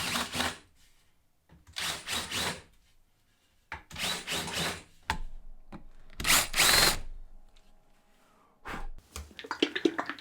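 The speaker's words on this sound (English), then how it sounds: "get a countersinking bit and just countersink these brass tubes" A drill with a countersinking bit bores into brass tubes in several short bursts separated by silence, close and moderately loud, with a thin squeal on one pass.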